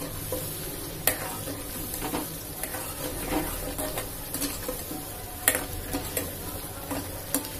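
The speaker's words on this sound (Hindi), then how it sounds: "और ग्रेवी को अच्छे से पकने देंगे।" Paneer kofta gravy simmers and sizzles in a pan while a spoon stirs it, with soft scraping strokes and a few sharp clinks against the pan over a steady low bubbling.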